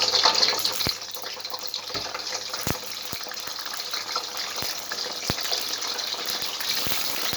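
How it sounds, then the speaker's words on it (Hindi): Eggplant frying in hot oil in a kadai gives a steady, dense sizzle with a few sharp pops and crackles spread through it. No one speaks. "अब हम इसमें बैंगन को फ्राई कर लेंगे।"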